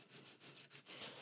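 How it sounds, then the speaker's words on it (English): Soft, rhythmic back-and-forth rasps of sandpaper shaping the back edge of a nut on a cheap guitar, about seven close, quiet strokes in steady succession. "while I'm sanding down this edge on the back of the nut"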